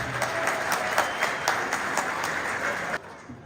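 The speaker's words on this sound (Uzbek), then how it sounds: "Ona qizlar uchun bir guldiroz qarsak bo'lsin do'stlar" Warm applause from a seated audience at an Uzbek stage show, dense rhythmic clapping that holds steady for about three seconds and then cuts off abruptly.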